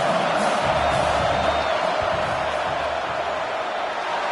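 A college football stadium crowd roars steadily during a field goal attempt, a dense, loud wall of noise sustained throughout.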